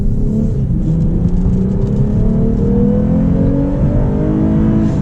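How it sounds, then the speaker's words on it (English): Lexus IS 350 F Sport accelerating from the driver's seat, a loud continuous engine drone whose pitch climbs steadily through the revs, with road and cabin rumble underneath and no talking. "so now we'll accelerate"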